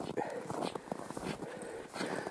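Dogs, one a short-legged dog, move through deep snow, giving soft crunching, scuffling steps and rustles nearby, with a few faint canine whimpers mixed in.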